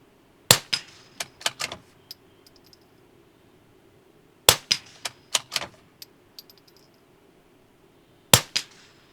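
A Tikka T1X rifle in .22 firing outdoors, three sharp close shots spaced several seconds apart, each followed by quick clicking bolt and action noises, with no voices.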